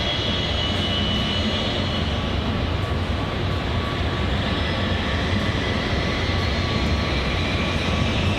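A large carrier aircraft with a spacecraft slung beneath it takes off from the Mojave airstrip, its engines making a steady, loud, broad roar that holds throughout without voices.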